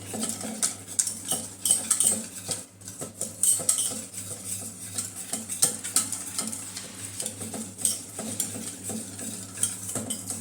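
Gram flour batter for dhokla being mixed in a bowl with a spoon, continuous clinking and scraping of utensil against the bowl in quick irregular strokes, close and moderately loud, no voices.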